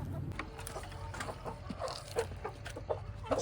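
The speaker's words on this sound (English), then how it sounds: "Chickens." Backyard chickens clucking and murmuring close by, a busy run of short overlapping clucks and croons at moderate volume with no talk.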